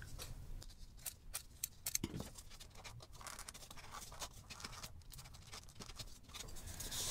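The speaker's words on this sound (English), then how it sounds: "I think I'm gonna try to trim a little bit more off of there." Scissors snip and trim fabric for a no-sew kimekomi ornament, a run of quiet, close cuts with small scratchy rustles and taps of handling between them.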